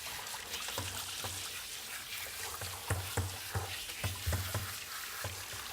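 Running water rinsing shampoo out of the coat of Pepper, a dog, during a bath: a steady splashing, trickling wash with soft irregular knocks and drips, fairly quiet and close, with no talking.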